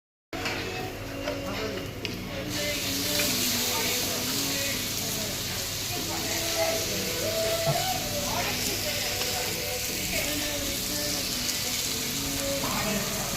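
Chicken sizzling in a pot while cooking: a steady, loud frying hiss that continues throughout, with a voice talking over it.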